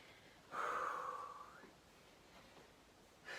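A single long breathy exhale after an exercise interval, close and soft, trailing off, followed by quiet room tone and the start of another breath at the end.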